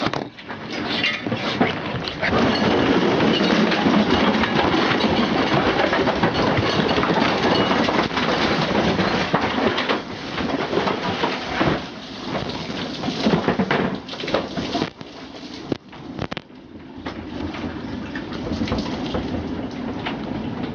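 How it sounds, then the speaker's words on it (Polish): Strong wind blowing hard and continuously across an outdoor setting, a loud roaring rush with gusty surges and rumble throughout, no talking. "Strasznie wieje."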